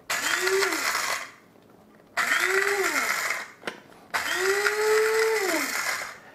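Electric spice grinder pulverizing dried peppers into powder in three bursts, each a loud whirring roar with the motor pitch rising and settling, separated by short pauses and a small click.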